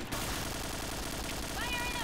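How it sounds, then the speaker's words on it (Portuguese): Rapid bursts of gunfire crackle back and forth under a steady din of game noise, fairly distant and continuous. "Olha, só o JVM trocando tiro, hein."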